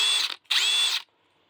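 DeWalt 12V DCF903 3/8-inch impact wrench running on its variable-speed trigger, two loud high-pitched whirring bursts separated by a brief pause, each spinning up and winding down, close up with no talking.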